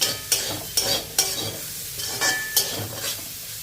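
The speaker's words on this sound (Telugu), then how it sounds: "ఇప్పుడు వీటిని ఉల్లిపాయ ముక్కలు పచ్చిమిర్చి వేగే వరకు ఫ్రై చేసేసుకోవాలి." Onion pieces and green chillies fry in oil in a pan, a steady close sizzle broken every second or so by sharp scrapes and clinks of a spoon stirring against the metal.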